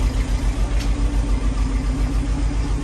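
A Fiat 1100D engine runs at a steady loud idle up close, its even low pulsing continuous and uninterrupted by talk.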